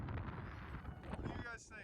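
Strong wind in Iceland buffets the microphone in a constant low roar, with gusty rumbling throughout and a faint voice in the background.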